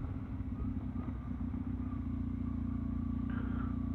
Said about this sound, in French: c'est un trail et ce véhicule me permet de faire un petit peu de chemin